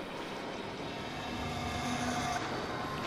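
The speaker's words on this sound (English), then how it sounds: "Is that a train?" A train rumbling past in the video game Resident Evil 2, a steady broad roar with faint metallic tonal whines, sustained and fairly distant throughout with no voices.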